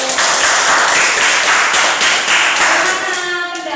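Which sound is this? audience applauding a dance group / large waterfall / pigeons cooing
audience applauding a dance group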